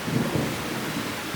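Heavy rain pours down in a steady, loud, dense roar around a quail and chicken yard, with no voices.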